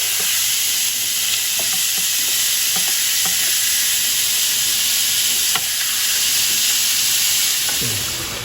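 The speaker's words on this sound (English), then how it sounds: "hamburger meat to the pot, which is hot. And we'll be browning this." Hamburger meat browns in a hot pot with a loud, continuous hissing sizzle and occasional faint stirring knocks, no talk.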